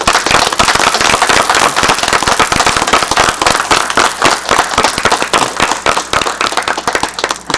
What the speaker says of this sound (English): can we give all of them a round of applause?